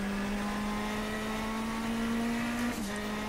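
A MetalMoro MR18 race car in Stock Car Extreme, its engine holding a steady, buzzing mid-pitched drone at constant revs with a brief dip near the end, loud and continuous with no speech.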